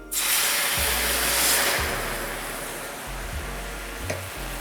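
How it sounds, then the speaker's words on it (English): White wine poured into a pan of toasting arborio rice and shallots sets off a loud, steady hiss and sizzle that surges early, then settles into continuous bubbling with no talk. "I've got some wine here, and I'm gonna add"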